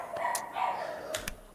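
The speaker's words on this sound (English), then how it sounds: "the dogs are going berserk" Dogs bark in short bursts during a video game's finale scene, several sharp yaps over a background of game ambience, moderately loud and fairly close.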